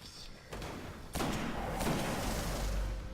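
Gunfire in the video game Destiny: a soft thump, then a louder heavy shot that rings out into a sustained roaring blast, with a faint voice in the mix.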